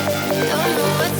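An EDM build-up, stripped of its reverb and filter sweep, plays dense and overly loud, with a sustained synth wall and rhythmic pulses running throughout the short stretch.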